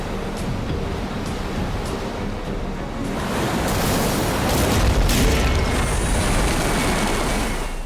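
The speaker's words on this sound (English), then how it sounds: "This giant wave hits the boat." A giant ocean wave strikes a sailing boat stranded on a reef, building from a steady roar of surf into a heavy, booming crash and sustained rushing water.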